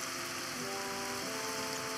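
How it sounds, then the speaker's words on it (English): Steady rain falls in the Minecraft video game, a continuous hiss with faint soft tones held beneath it and no voices. "It's raining."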